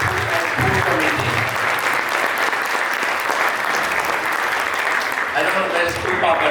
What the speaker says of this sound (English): let's give a huge round of applause to Krupa and Food Committee